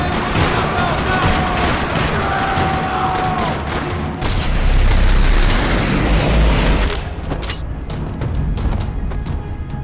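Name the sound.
gunfire in parking lot in video game Max Payne 3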